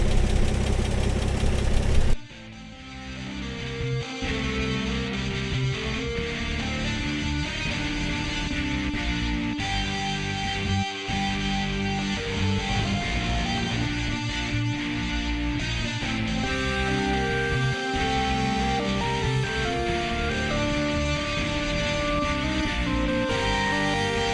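A car engine idles steadily and close by, with a light, rapid ticking of tapping hydraulic lifters running through its drone.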